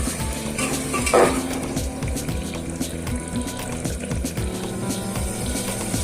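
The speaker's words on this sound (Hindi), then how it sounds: "इन मसालों को हम अच्छे से चला देते हैं।" Spices for egg curry being stirred in a pan with a spoon, a steady run of scraping and clinking strokes against the metal over a low simmering bubble, close and alone without talk.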